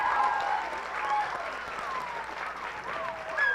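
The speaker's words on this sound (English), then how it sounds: "so let's give her a round of applause" An audience at a spring sing performance applauds the sound technician, a steady spread of clapping with scattered whoops and voices rising over it throughout.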